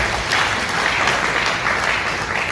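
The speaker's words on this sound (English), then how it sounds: "Please, a round of applause for that." Audience applause at a Lagos State University event, a steady dense clapping from a crowd that holds at an even level throughout without voices on top.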